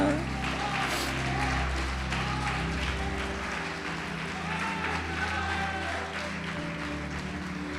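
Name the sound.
congregation applauding in church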